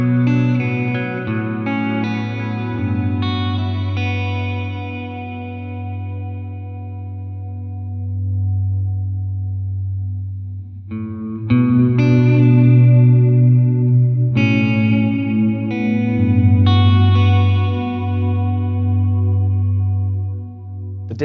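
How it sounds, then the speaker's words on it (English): An electric guitar plays chords through a Dispatch Master delay and reverb pedal set for thick reverb, each strum blooming and trailing off slowly into a wash of sustained sound. "you're getting a much thicker and fuller sounding reverb"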